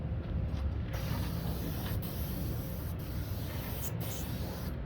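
Sprayer laying a heavy coat of Messmer's UV Plus finish onto a Brazilian Cumaru hardwood deck, a continuous loud hissing spray broken by a few brief pauses.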